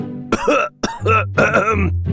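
An adult man coughs and clears his throat several times in quick, rough bursts, close and fairly loud, with a short pause between the hacks.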